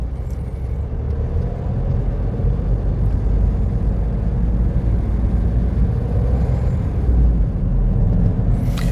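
Smart diesel car with an automated manual gearbox sits idling in city traffic, a steady low engine rumble filling the cabin throughout with no speech.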